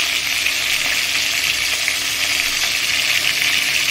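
Four large hilsa fish heads frying in oil in a pan, a dense, loud, continuous sizzle with crackling spatter close up, no voices.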